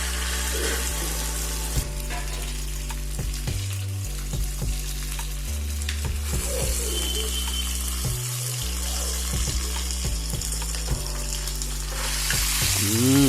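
Fish frying in a pan gives a steady, close sizzle, with water running from a tap and a few clinks partway through; nobody speaks.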